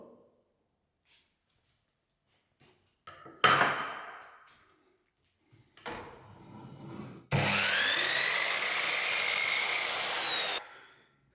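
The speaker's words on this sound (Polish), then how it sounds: "jak wygląda e, cięcie tej listwy, gdy położymy ją stroną malowaną na blat piły" A saw cuts through an MDF baseboard laid painted side down on the saw table, giving a short initial cut burst, a spin-up, then a loud steady whine for about three seconds before stopping.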